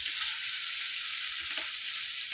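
Pomfret fish frying in hot oil, a soft, even hiss of sizzling that stays steady and fairly quiet for a brief moment.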